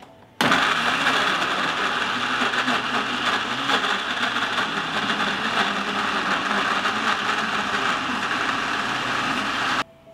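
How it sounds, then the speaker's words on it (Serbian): A kitchen blender chops washed strawberries, starting abruptly and running at a loud, steady whir for about nine seconds before cutting off. "I oprane i očišćene jagode stavljam u blender."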